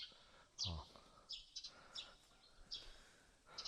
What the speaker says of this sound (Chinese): 是鸟叫啊！